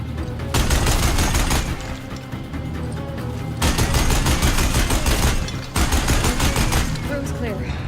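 Rapid bursts of automatic gunfire from Deathbringer guns in a video game, in three sustained loud volleys separated by brief gaps, with the clatter and booms of combat filling the scene.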